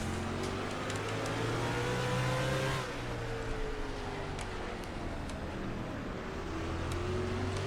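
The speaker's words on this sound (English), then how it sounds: "Right now it's racing, we're side by side, we're knocking elbows with Ambrose right now" Stock car engines roaring in NASCAR Racing 2003 on a road course, a sustained loud drone with rising and falling revs as cars run side by side, constant throughout with no voices.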